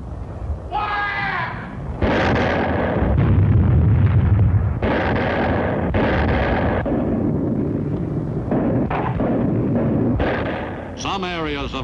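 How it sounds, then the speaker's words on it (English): Howitzer artillery fire during the WWII battle for Bloody Nose Ridge on Palau, with repeated loud booming blasts and bursts in a rolling sequence across the whole stretch, close and heavy, with no talk over it. "The crescendo of the howitzers prefaced each new attack."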